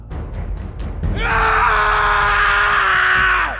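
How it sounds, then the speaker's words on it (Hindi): A man screams under electric shock torture in a cellular jail, a sustained, strained cry that rises after a second of rough noise and holds steady, loud and close, for over two seconds before trailing off. "उसकी चीखें पूरी जेल में सुनाई देती।"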